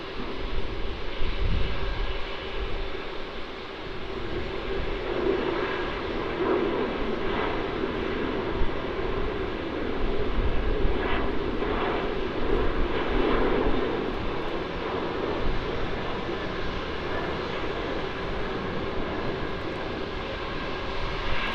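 A jet airliner rotates early on takeoff for a Perth flight at Melbourne Airport, its engines giving a loud, steady broadband roar that swells slightly midway and holds throughout, with no talk over it.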